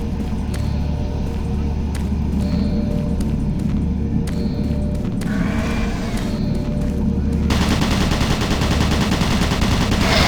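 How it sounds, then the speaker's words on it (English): Bursts of rapid gunfire from automated turret guns in Doom 3 crackle over a steady low rumble, building into a dense, continuous stream of shots in the final seconds. "Automated turret guns online"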